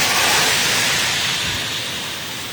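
Steady rain pours down in Bay City, a dense, even hiss of falling water that fills the scene and eases slightly toward the end, with no voices over it.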